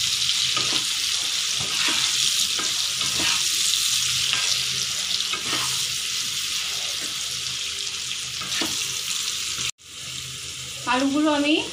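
Potato pieces seasoned with salt and turmeric fry loudly in hot oil with a dense, constant sizzle and occasional stirring. A brief dropout comes near the end, then the frying returns.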